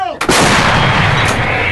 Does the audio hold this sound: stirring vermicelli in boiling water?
no